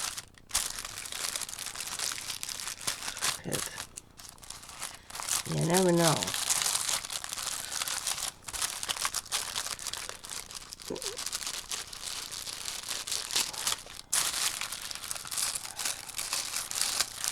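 Tissue paper from an online order crinkles and rustles in bursts as it is unwrapped, close and fairly loud, while a person talks intermittently throughout.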